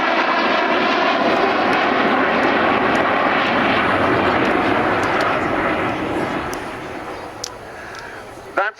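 An Avro Vulcan XH558 bomber making a display flypast at an air show, a loud sustained engine roar near the listener that slowly fades as it passes, with faint crowd voices and a few clicks near the end.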